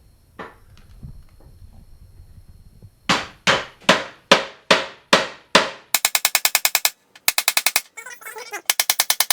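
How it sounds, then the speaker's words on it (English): A hammer drives a wooden dowel rod through a sizing hole in a steel plate: six loud, evenly spaced blows ring out close, then fast rattling runs of rapid taps follow, with no talking. "I'm going to hammer it through this middle hole here in the steel plate"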